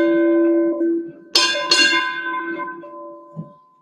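A ship's bell rung for a departing captain's four-bell honors at a US Navy change of command ceremony: a sustained whistle tone, then a quick pair of bright ringing strikes that decay slowly, close and loud.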